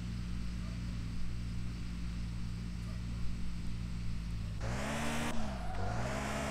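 A Tofaş car in a driving video game hums along steadily at medium engine pitch. Near the end it revs up sharply and the pitch swoops up and down through gear changes, with no talking over it.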